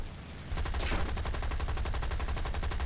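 Aircraft machine guns in War Thunder open up after a brief pause, firing a loud, rapid, unbroken burst of closely spaced shots that lasts to the end.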